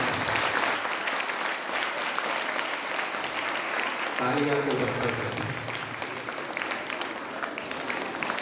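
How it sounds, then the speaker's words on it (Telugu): Applause from an audience of college teachers and students at an Independence Day event, a steady wash of clapping that runs the whole time with voices in the crowd beneath it. "చప్పట్లు కొట్టడం అవసరం అనుకుంటున్నాను"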